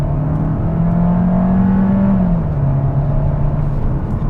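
A 2021 Kia K5 GT-Line's 1.6-litre turbocharged four-cylinder drones steadily under full-throttle acceleration from inside the cabin, its pitch climbing and then dipping as it shifts, loud and continuous.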